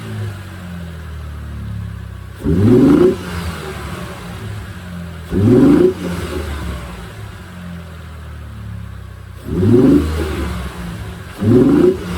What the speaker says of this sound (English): I'm going to rev up the engine and let you hear the difference on the intake.